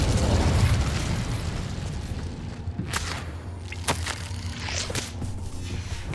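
Incendio fire spell cast in Hogwarts Legacy: a dense whooshing burst of flame with several sharp crackling snaps and pops, layered over a steady low rumble of game ambience, close and fairly loud, no voices.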